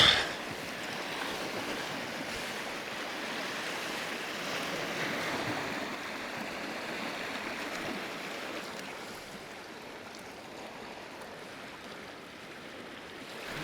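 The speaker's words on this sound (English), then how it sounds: "That wind really picked up" Wind and surf on Lake Superior heard from a kayak, a steady broadband rush of gusting wind and breaking waves with some microphone buffeting, loudest at the start and easing slightly toward the end.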